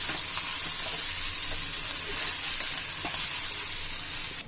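Jackfruit pieces and onion frying in oil in a pan, a steady loud bright sizzle with small crackles running unbroken from start to end.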